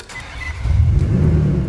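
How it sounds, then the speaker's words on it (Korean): A Maserati's engine and exhaust swell from quiet into a deep, loud rumbling growl that holds steady, close and alone without voices. "아, 엔진 소리 죽이고 남자라면 환장할 수밖에 없는 마세라티의 배기음."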